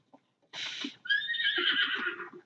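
A horse in Zelda: Breath of the Wild lets out a single loud, drawn-out whinny that wavers for about two seconds, with faint hoof clops underneath.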